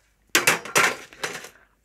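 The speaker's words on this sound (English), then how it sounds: "let's just fill this up with more crushed ice." Crushed ice is poured into a cocktail glass while mixing a coconut puree cocktail: a few quick, close, crunchy clattering bursts of ice tumbling onto ice and glass, each fading briefly, with no talking.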